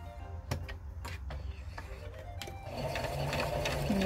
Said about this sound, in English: now we're at my sewing machine and I'm just gonna sew that edge